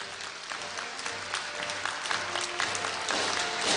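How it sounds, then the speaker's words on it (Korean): Sustained applause from a large audience at Korea University's 2016 degree-conferral ceremony, a dense even wash of many hands clapping throughout, moderately distant and steady. "여러분 큰 축하의 박수를 부탁드립니다."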